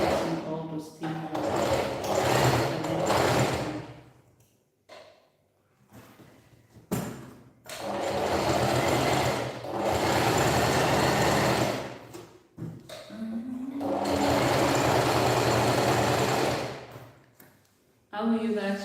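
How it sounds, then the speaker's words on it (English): A home sewing machine runs in long steady bursts of several seconds each, separated by short pauses, with a voice talking at points between runs. "Then I went and bought a sewing machine"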